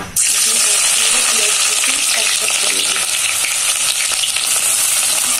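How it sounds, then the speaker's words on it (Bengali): Oil fries hard in a wok while duck curry with potatoes is cooked village-style, a loud, dense, continuous sizzle with a bright hiss that fills the whole stretch close to the microphone. "একটি কড়াইতে দিয়ে দিয়েছি পরিমাণ মতন তেল। তেলটা গরম করে নেব।"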